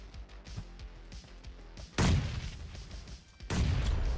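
Grenade explosions in the game PUBG Mobile, where a run of small gunfire-like pops gives way to two loud booming blasts with rumbling tails, close and forceful.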